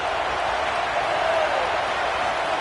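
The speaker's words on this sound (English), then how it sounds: "This crowd knows when to bring it." A football stadium crowd in Arkansas roars in a dense, sustained wash of cheering, loud and even across the whole moment without a break.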